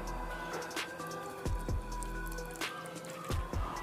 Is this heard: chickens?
no